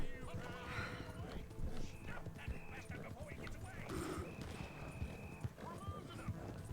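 A horse's hooves clip-clop at a run in Red Dead Redemption 2, a quick rhythmic patter under game music and effects, with a snort or whinny and a player talking over it.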